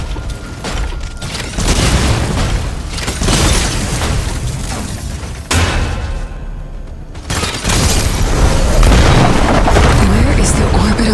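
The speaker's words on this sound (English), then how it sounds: "Gauss cannons' powerful impact can immobilize the target." Gauss cannon impacts in the Mecha Break video game: heavy booming blasts and crackling debris rolling continuously across a dense, loud battle mix, with a brief drop before another surge of explosions.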